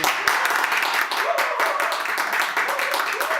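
A church congregation claps steadily, a dense, continuous wash of applause from many hands throughout.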